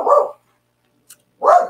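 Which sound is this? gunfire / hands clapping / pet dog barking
pet dog barking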